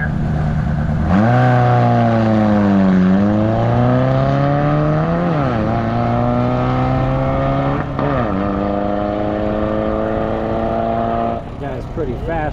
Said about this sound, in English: Ford Model B block, speedster body. He's got one of Steve Sir's Miller overhead valve engines.